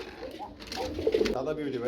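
Red Bombay pigeons coo in low, throaty bursts close by while people talk over them.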